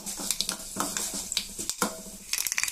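Mustard seeds pop and crackle in hot oil in a pan, a close run of sharp, uneven little snaps over a faint sizzle, with no talk.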